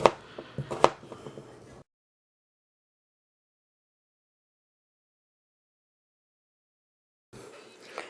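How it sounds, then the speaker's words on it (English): A knife cuts washed red potatoes into bite-sized pieces, giving a brief cluster of close chopping knocks on a board, followed by a long stretch of silence. "after you've cut all your red potatoes up"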